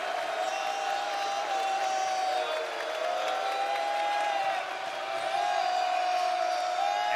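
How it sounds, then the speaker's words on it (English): Crowd at Devlin Fieldhouse during a tight Tulane versus Florida Atlantic college basketball game, a steady, loud roar of cheering that holds for several seconds, with a sustained tone riding over it. "Ron Hunter is calling for the crowd to get on their feet here at Devlin Fieldhouse."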